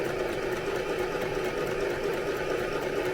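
A sewing machine runs steadily under foot-pedal control, a continuous whirring motor hum with a fast mechanical rhythm, close and fairly loud throughout with no pauses.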